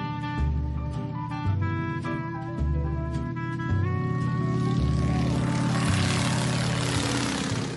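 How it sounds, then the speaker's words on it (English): A 1940s biplane's propeller engine drones in flight, a low, pulsing rumble beneath prominent orchestral music that swells toward the end. "To fly this 1940s biplane, Marsha Ivins relies more on the view from t"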